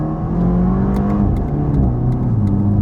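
A Toyota Supra 2.0 engine hums steadily from inside the cabin, its pitch dropping and shifting as the transmission changes gears, with faint clicks on top.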